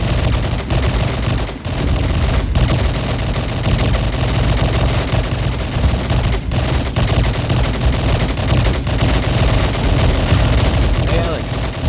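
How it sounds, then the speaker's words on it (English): Continuous heavy gunfire at a shooting range in Call of Duty 4, with dense overlapping automatic bursts and shots rattling without pause, loud and close throughout. "Sounds like someone's at the shooting range."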